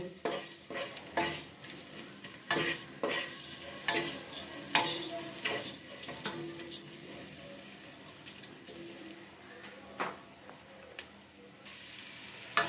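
Masoor lentils dry-frying in a pan, a soft steady sizzle broken by a regular series of spatula scrapes and stirring knocks that grow sparser toward the end.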